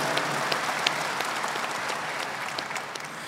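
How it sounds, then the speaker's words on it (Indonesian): Audience applause at a large Islamic religious gathering, a dense, steady burst of clapping from a big crowd lasting a few seconds with no speech over it. "Tepuk tangan sekali lagi untuk beliau"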